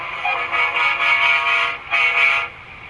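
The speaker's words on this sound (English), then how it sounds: "let's see if this electric truck's got a train horn" A train horn fitted to an electric truck in War Thunder sounds two loud, sustained blasts, the first long and the second shorter after a brief gap, with a bright, brassy tone.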